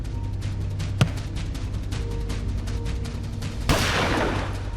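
A pistol fires accidentally in a staged crime reenactment: one sharp, close shot cracks early, followed a few seconds later by a louder burst of noise, over a dense rapid rattling background.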